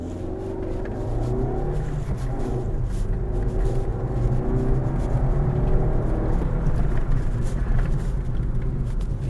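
A Maruti Fronx running on petrol drives along with a steady, loud engine drone and road rumble heard from inside the cabin, rising slightly as it pulls.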